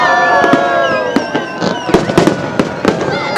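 New Year 2018 fireworks in Sharjah exploding in sharp, irregular bangs and crackles close by, with excited voices reacting between the blasts.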